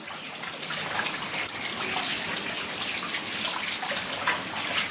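Steady, close splashing and gushing water runs continuously as someone bathes with dirty water, with no voices heard.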